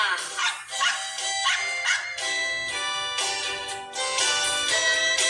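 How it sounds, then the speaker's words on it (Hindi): A dog barks and yips repeatedly in quick bursts, loud and close, with a few whimpering notes between barks and no talking. "कुत्ता।"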